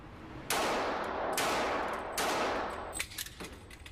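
Gunfire on the Federal Reserve police's private indoor shooting range: three loud, sharp shots spaced about a second apart, each with a long ringing decay, then a quicker cluster of smaller cracks.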